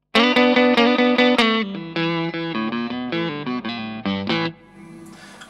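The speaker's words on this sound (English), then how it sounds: "So on the clean channel of the amp with the Strat neck position," Fender Stratocaster on its neck pickup through the clean channel of an amp, a run of plucked single notes and short phrases, bright and ringing, played alone with a little chorus-like shimmer, fading out near the end.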